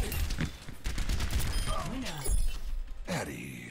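Gunfire from an Overwatch 1v1 match, with bursts of shots and impacts over game effects and ongoing voices talking throughout.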